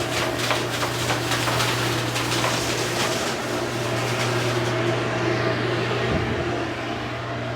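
Loud steady roar of a negative air machine running while compressed air blasts through ductwork, a broadband hiss with a constant low hum that eases slightly near the end.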